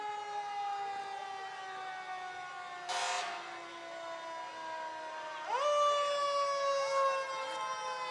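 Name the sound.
fire alarm sirens during a parade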